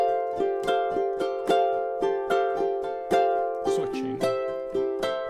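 Ukulele playing a syncopated strum pattern over a jam track, the strums repeating in a steady, bright rhythm with a chord change midway and sustained harmonic backing throughout, close and clear with no talking.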